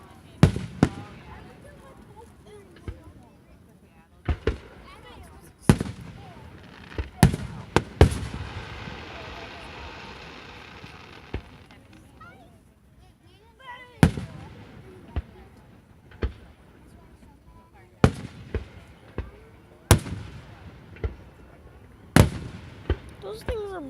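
July 4th fireworks explode outdoors in sharp loud booms and cracks at irregular intervals, with a crackling burst in the middle and people talking between bangs.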